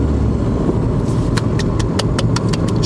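Car engine hums steadily in the cabin during a driving lesson, a continuous low drone with a series of sharp rhythmic ticks joining partway through, like an indicator clicking.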